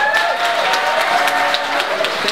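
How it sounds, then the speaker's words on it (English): A crowd at a book launch breaks into steady, fairly loud applause, dense clapping that holds evenly for the whole stretch with no talk over it. "please join me and give him a big round of applause"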